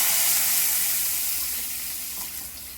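Tempering spices sizzle steadily in hot oil for a Telugu meal of curd vadas, onion garelu and chicken curry, a broad continuous hiss that holds close and fairly loud throughout, with no talk.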